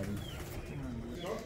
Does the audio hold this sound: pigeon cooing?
yes